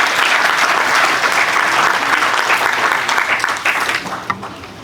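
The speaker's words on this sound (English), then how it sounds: "let's give a very big round of applause for this particular event" A university event audience claps in a dense, loud round of applause that holds steady, then thins out and tapers near the end.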